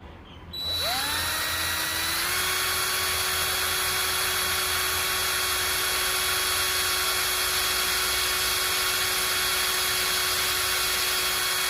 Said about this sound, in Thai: เราจะใช้สว่านเจาะตรงกลางเลยครับ